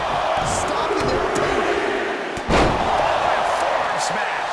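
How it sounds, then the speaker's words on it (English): A loud thudding slam rings out as a wrestler is driven down by a suplex in a wrestling video game featuring Mr. T, Hulk Hogan, John Cena and Jeff Hardy, ringing over steady crowd noise and a commentator's voice. "Look at this, Miller White suplex"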